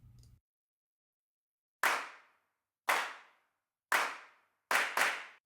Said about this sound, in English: again, the stock Logic drummer